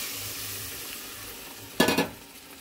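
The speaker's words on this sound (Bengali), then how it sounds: "এবার একটু জল দিয়ে দিচ্ছি" Water poured into a frying egg curry in a pan, a low steady sizzle followed by a short, loud hissing burst that quickly settles.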